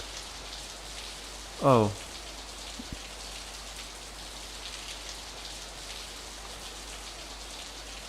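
Steady, even rain falls throughout a scene in the visual novel game Steins;Gate 0, a continuous soft hiss briefly interrupted by a short spoken exclamation and a faint tap.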